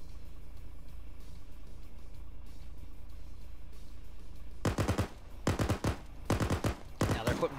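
Gunfire in a military video game depicting US versus Russia tank, infantry and armor warfare: a quiet ambient stretch, then repeated rapid automatic bursts, loud and close, in clustered volleys through the second half.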